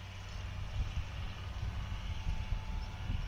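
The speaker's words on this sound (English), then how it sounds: "It's pretty windy today." Wind gusts across an open hay field being cut and left to dry, a continuous low rushing and buffeting with soft rises and falls, steady and close with no voices.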